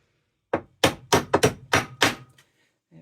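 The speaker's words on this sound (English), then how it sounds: "I think the only way for me to get that on is going to be to whack this with a hammer" A hammer whacks a part onto an Electric Eel Wheel maker kit: six or seven sharp, close knocks in an uneven rhythm, then a pause and a faint knock at the end.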